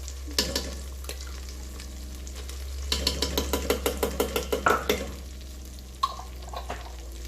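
Sofrito tomato cooking base sizzling in a pot for arroz con gandules, with a steady fry hiss under a run of rhythmic spoon scrapes and clinks against the pot.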